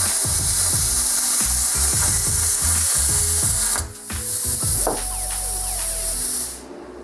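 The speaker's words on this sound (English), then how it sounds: "You can see it just slices through there" A cheap 50 amp plasma cutter slices through metal with a loud, steady spraying hiss. Faint clicks and taps sit underneath, the roar dips briefly partway through, and the cutting noise cuts out at the end.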